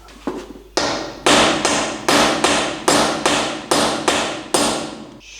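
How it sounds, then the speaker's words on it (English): Heavy hammer blows ring out on a steel pin, about ten strikes in an even rhythm, each bright impact decaying quickly, loud and close with no talking. "I'm gonna get a hammer and we're gonna wail on that and see if that drives that pin out"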